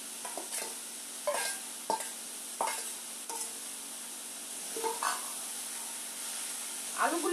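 Dheki fern greens frying in a pan as potatoes are added for shaak bhaja, a faint hissing sizzle with repeated scraping stirs of a spatula at irregular intervals.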